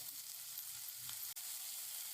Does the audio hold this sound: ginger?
yes